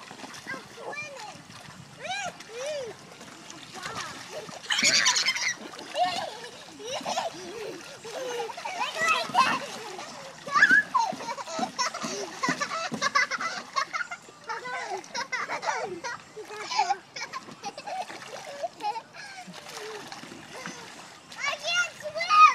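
Kids splash about in water, with choppy, irregular bursts of spray mixed with near-constant children's chatter and shouts at moderate volume.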